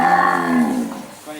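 Weaner cattle in force pens give a single loud, close moo, a drawn-out bellow that slides down in pitch and fades out within about a second.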